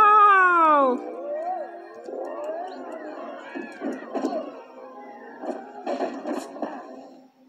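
A cat gives a loud, drawn-out descending meow, followed by softer, scattered sounds and clicks at a lower level.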